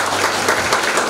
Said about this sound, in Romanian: Haideți să o mai aplaudăm o dată